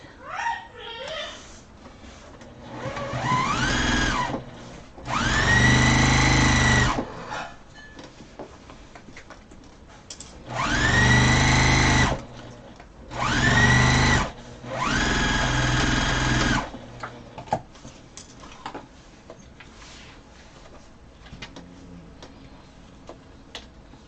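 A sewing machine double-stitching a pillow runs in several loud bursts of a few seconds each, with quiet gaps and faint handling noise between runs.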